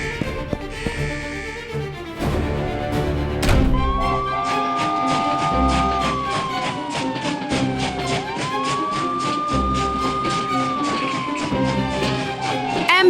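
An ambulance siren from a children's cartoon about trains wails in rising and falling sweeps over bright, busy background music, fairly loud and sustained for most of the stretch.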